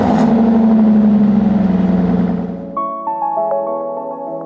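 A supercharged V8 Aston Martin Vantage running on a dyno roars loud and steady, then the engine note drops away as the revs fall, leaving a fading mechanical whine.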